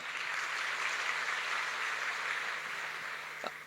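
An audience at an Indonesian SEMMIT academy talk claps together in a dense, steady round of applause that fills the whole stretch and fades slightly near the end.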